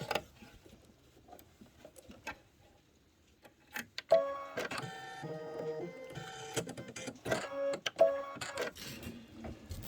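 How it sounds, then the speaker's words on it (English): An embroidery machine stitches white snowflakes on a Kimberbell Candy Cane Lane bench pillow, first with scattered soft clicks, then a steady close mechanical whirring and rapid needle rhythm. "Go ahead and do your snowflakes. This is going to be 5 minutes of stitching."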